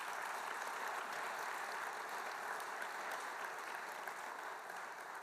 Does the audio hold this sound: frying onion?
no